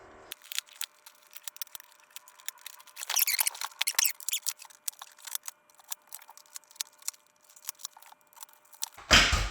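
Angle cutters snipping and prying hog rings off a BMW E30 sport seat, scattered small metallic clicks and squeaks, with a louder crunching cut near the end.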